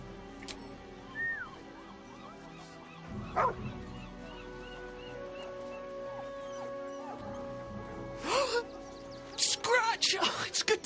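A dog in the video game Baldur's Gate 3 yips, whimpers and barks in short bursts, heard under steady background music and game voices, growing louder near the end.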